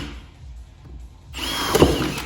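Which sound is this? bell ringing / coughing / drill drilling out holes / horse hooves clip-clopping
drill drilling out holes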